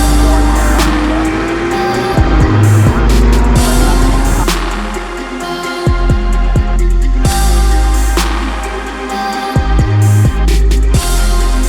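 McLaren GT race cars passing at Brands Hatch during a GT Cup Championship meeting, loud engine roar rising and falling as several cars sweep past in succession, with gear changes and pops over a noisy outdoor circuit background.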